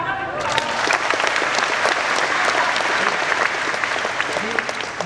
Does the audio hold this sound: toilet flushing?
no